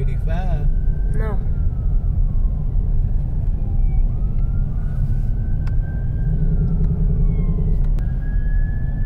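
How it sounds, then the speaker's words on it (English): An ambulance siren wails at a distance in Atlanta traffic, its tone sliding up and down over the loud, steady rumble of road traffic, with a voice speaking briefly near the start. "Ambulance behind."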